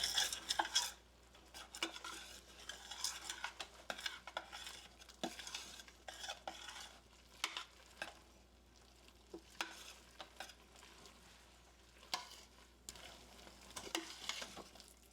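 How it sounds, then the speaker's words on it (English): A spoon scrapes and stirs flour into vegetables in a pot for creamy Philly cheesesteak soup, a steady run of soft irregular clinks and scrapes over a faint sizzle, close and fairly quiet. "Then we're going to cook 2 minutes and stirring constantly"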